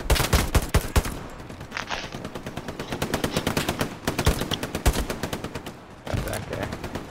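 Rapid bursts of automatic gunfire rattle loudly in a shooting video game, long rattling strings of shots broken by brief pauses, with players' voices faintly underneath.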